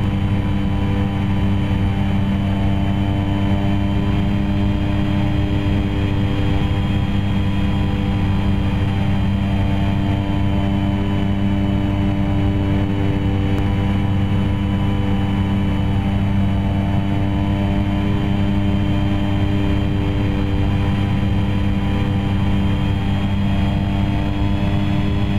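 A Carenado Cessna 208 single-turboprop in the X-Plane 11 flight simulator gives a steady, loud, unbroken drone with a strong layered hum from start to finish, with no talking.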